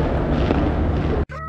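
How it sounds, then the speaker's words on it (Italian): Fireworks burst over Palermo, Sicily, seen from a terrace, a loud continuous rumbling boom with dense crackle that ends abruptly, followed by a quieter tail. "Palermo ci saluta con i fuochi d'artificio."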